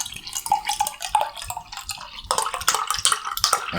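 Wilko IPA beer pours from a bottle into a glass, a close bubbling gurgle with irregular glugs and splashes that grows fuller partway through, no talking.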